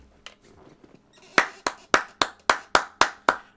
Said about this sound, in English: Guys, we gotta clap it up.